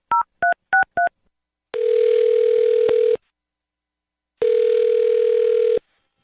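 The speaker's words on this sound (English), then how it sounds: "I'm going to dial his phone number" Telephone being used to call a phone number: four quick touch-tone keypad beeps, followed by two long, steady ringing tones separated by a pause, clear and close with no talking.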